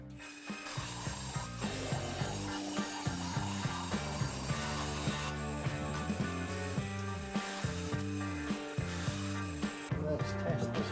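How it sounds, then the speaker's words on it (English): Bandsaw cutting a marked piece of wood in a workshop, a steady, loud mechanical whirr with a buzzing, rasping blade tone that shifts in pitch as the cut progresses, running continuously alone. "Let's get it cut on the bandsaw."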